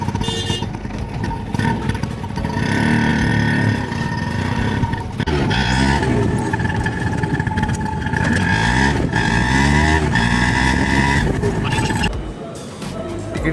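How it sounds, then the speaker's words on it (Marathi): An auto rickshaw pulls away in Mumbai. Its small engine revs loudly and close by, rising and falling in pitch as it accelerates through the gears, and quietens near the end. "भेटल्या रिक्षा निघाली"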